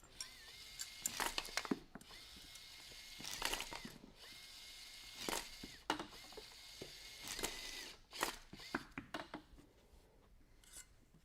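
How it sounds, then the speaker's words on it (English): Robot parts for an FTC competition robot being bolted together, with repeated close metallic ratcheting and clicking bursts in irregular runs, fairly quiet and with no talk. "Just gonna bolt some stuff together quick"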